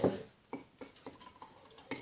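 Water from a container splashes into a container of sugar while candy is being made, heard as a quiet, irregular series of small drips and splashes rather than a steady pour.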